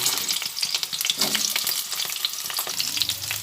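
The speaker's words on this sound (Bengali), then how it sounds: "তেলের মধ্যে আমি পটলগুলো দিয়ে পটল ভেজে নিচ্ছি" Pieces of pointed gourd frying in hot mustard oil in a wok, a dense, continuous crackling sizzle with occasional stirring scrapes, close and fairly loud throughout.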